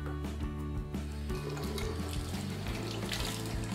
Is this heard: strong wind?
no